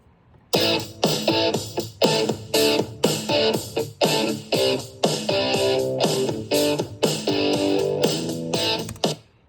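Layered electric guitars play chopped rhythmic chords with a distorted lead line over them, loud and steady, pausing briefly between phrases.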